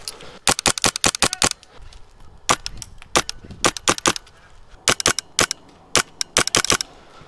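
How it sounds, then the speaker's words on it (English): An airsoft gun fitted with a Perun Clicker V2 Pro trigger mod fires in quick bursts of sharp snapping clicks, several shots in rapid clusters separated by short pauses, close and crisp. "provides an audible clicking every time you fire"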